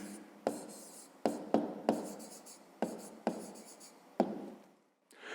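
A pen writes a numeric answer by hand on paper in a quick series of about nine short, scratchy strokes, close and quiet, with no talking.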